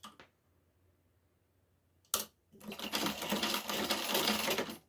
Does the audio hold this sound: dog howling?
no